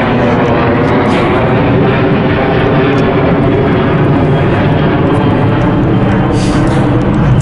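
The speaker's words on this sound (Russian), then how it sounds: "Сейчас самолет пролетит." An airplane passes overhead, a loud, continuous engine roar with broad rumbling noise that holds steady across the whole stretch and fully dominates.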